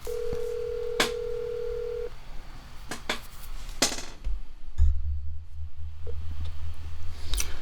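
A phone dial tone sounds, then keypad tones beep one by one, followed by a low ringing hum on the line with scattered clicks.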